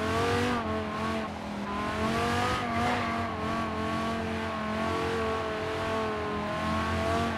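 An Audi R8 in Forza Horizon 3 cornering around a roundabout at roughly 83, its engine holding a steady, loud, droning tone that rises and falls slightly, close and continuous with no talk.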